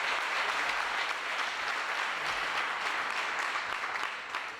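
A church youth seminar audience applauds in praise of the Lord, a dense wash of many hands clapping that holds steady at moderate loudness before thinning at the end.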